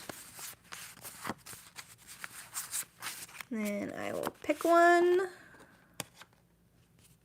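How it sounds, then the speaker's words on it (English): A deck of playing cards shuffled by hand, several riffles and a bright ripping bridge near the end, with someone talking quietly before and between the shuffles. "So I'm shuffling them again for you to see."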